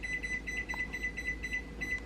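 A kitchen timer being set gives off a quick, steady string of short high beeps, faint and close, with no talking.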